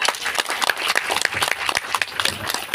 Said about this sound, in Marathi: पुन्हा एकदा सरांसाठी जोरदार टाळ्या